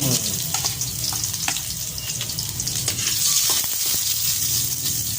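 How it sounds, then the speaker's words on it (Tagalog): Garlic frying in a pan gives a steady, close sizzle with occasional crackles and stirring scrapes, continuous throughout with no talking. "Bawang browning."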